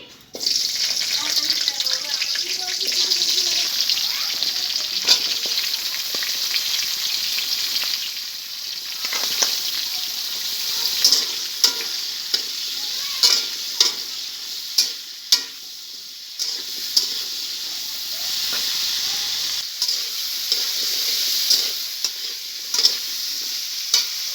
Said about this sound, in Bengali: এবার এই সবজিগুলো আমি এই তেলে ভেজে নেব। প্রথমে ফুলকপিটা দিয়ে দিচ্ছি।